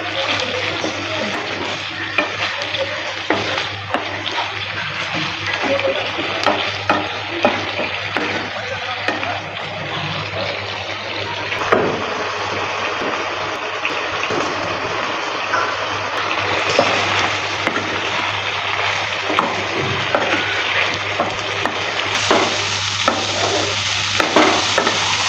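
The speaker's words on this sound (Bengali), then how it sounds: "লবণটা দেওয়ার পর ভালো করে আবারও নেড়ে চেড়ে নিচ্ছি" Ol kochu (elephant foot yam) curry with soybean chunks being stirred and fried in a pan, a dense continuous sizzle with steady scraping of the spoon, running on without pause and growing slightly louder toward the end.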